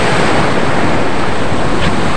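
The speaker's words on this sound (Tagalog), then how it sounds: "Lakas yung alon dito ngayon." Strong ocean waves crash and roar continuously, a loud, close wash of surf with wind buffeting the microphone and no voices.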